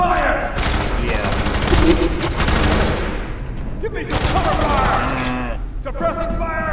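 Loud, sustained bursts of rapid gunfire in the video game FEAR 3, with brief lulls between volleys and shouting voices mixed in near the end.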